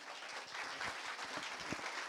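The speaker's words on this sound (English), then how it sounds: "if you wouldn't mind giving him a big round of applause, Danny Perez." Audience at a community business meeting giving a round of applause, dense, sustained clapping from many hands filling the room at moderate distance.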